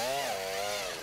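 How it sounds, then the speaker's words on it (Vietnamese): Earth auger drill driven by a 68cc Takeo TK3B engine digging a planting hole, a loud steady high-revving two-stroke drone with a slight pitch dip, close and continuous. "với động cơ 68cc của Takeo TK3B thì khoan rất là dễ dàng và đơn giản"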